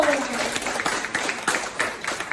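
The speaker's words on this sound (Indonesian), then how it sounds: "Tepuk tangan buat Tio." A short round of classroom clapping for a student, a steady patter of many hands at moderate loudness with faint voices underneath.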